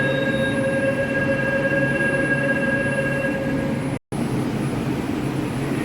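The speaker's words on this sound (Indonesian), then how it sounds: "ini dia tampak depan dari LRT dari stasiun Velodrome" Hyundai Rotem light rail train of LRT Jakarta at Velodrome station, a steady loud rolling rumble with sustained high wheel squeal tones throughout, cut by a brief dropout near the end.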